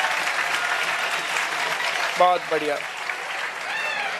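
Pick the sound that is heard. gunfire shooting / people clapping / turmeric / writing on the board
people clapping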